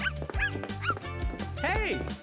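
Cartoon puppy yips and bow-wows several times in quick bursts, close and fairly loud, mixed with a playful music bed in a colorful pet-shop scene.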